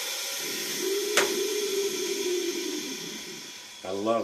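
A VacMaster chamber vacuum sealer seals a bag of crappie fillets, with a steady motor hiss, a sharp click, a long drone and a short closing sound, heard close up. Someone speaks right after.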